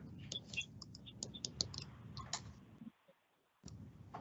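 A computer mouse clicks in PDF software, with quick, faint, crisp clicks in a quiet room that come in a scattered run and then stop briefly.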